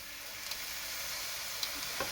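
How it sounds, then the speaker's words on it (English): Beer (IPA) hisses and sizzles steadily in a hot pan, a soft continuous crackle with occasional small pops. "Let's see, sizzle, sizzle."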